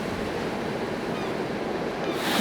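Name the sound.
wind and waves while sailing a boat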